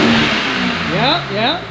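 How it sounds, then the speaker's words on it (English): A BMW G87 M2 fitted with BMS intakes revs up twice close by, the engine note sweeping upward and falling back between blips, with a brief spoken word at the start. "I'm gonna let it warm up a little bit and then we're gonna get some revs."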